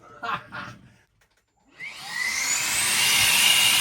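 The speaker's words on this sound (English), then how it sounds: "Help if I turn the vacuum on." After a few brief knocks and a pause, a shop vacuum connected to a cordless multi-tool sanding with a 60-grit sheet whirs up and runs loudly with a rising whine.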